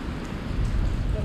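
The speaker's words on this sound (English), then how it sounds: "it's pouring rain out here" Heavy pouring rain on a street in Hongdae, South Korea, a steady dense wash of noise that holds throughout the short moment with no break.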